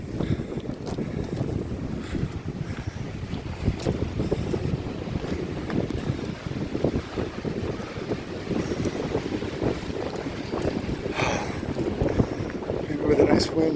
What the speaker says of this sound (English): With a nice wind.